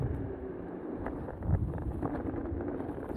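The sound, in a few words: wind noise while riding electric skateboard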